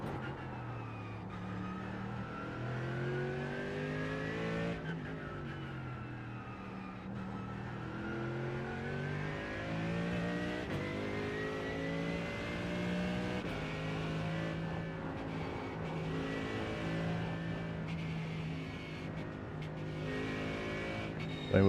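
A GT3 race car engine revs and shifts through gears in the iRacing sim during Nürburgring 24 balance-of-performance testing, with rising and falling harmonic pitch sweeps that run continuously and loud throughout.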